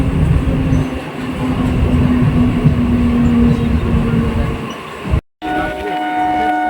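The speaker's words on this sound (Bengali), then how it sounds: "এবারে মালগাড়ি যাচ্ছে।" Loud, close rumble and clatter of a freight train passing near Shimurali station, wheels rolling steadily, then a brief dropout before a quieter rail hum.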